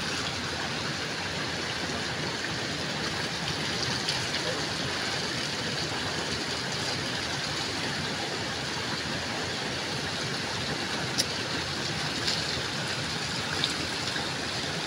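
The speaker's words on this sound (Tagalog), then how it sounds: "may malaking falls na ang lakas ng tubig bumababa sa galing sa taas ng bundok" A large mountain waterfall with a strong flow of water pouring down from high up, heard as a steady, dense broadband roar that holds constant throughout without any talking.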